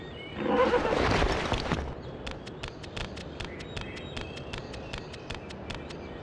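Horse in the Barbie Horse Adventures Wild Horse Rescue PS2 game lets out a loud whinny, followed by a quick, light, regular clip-clop of hooves trotting steadily on.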